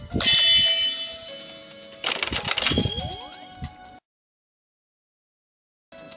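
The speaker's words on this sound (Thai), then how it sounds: "เปิดหีบก่อน" A treasure chest opens in the Ace Fishing mobile game with two bursts of bright ringing dings and metallic clangs, then a sudden silence before a short chime returns.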